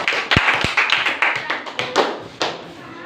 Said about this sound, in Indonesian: setelah kita berikan aplaus bagi kelompok 1